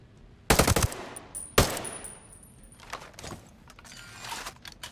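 In the video game Ghost Recon Breakpoint, two sharp, loud gunshot bursts ring out about a second apart, each trailing off into a fading echo, followed by quieter mechanical clicks and rattles.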